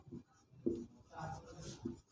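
Chalk or marker strokes on a board: a few short, quiet scratchy strokes in a brief burst, close by, with no talk over them.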